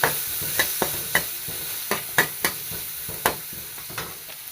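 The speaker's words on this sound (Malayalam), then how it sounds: "ഒന്ന് വഴറ്റിയെടുക്കാം" Coconut, chilli powder, coriander powder and turmeric powder sautéed in a pan, with a soft steady sizzle broken by about a dozen sharp scraping clicks of a spoon stirring, close up, no voices.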